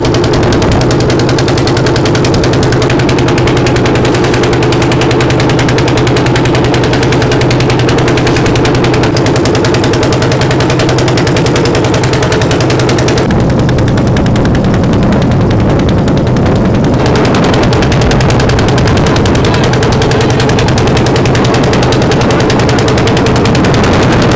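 Loud, continuous engine of a tourist boat on a river trip near Kolkata's Sundarbans-style mangroves, a rough rapid chugging drone that holds close and steady throughout.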